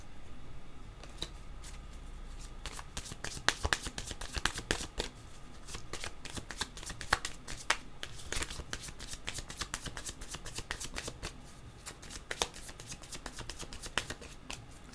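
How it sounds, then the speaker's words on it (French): A deck of tarot cards is shuffled repeatedly up close, a run of crisp riffling flutters and snaps lasting throughout with little else present. "Je vais prendre mon jeu de cartes."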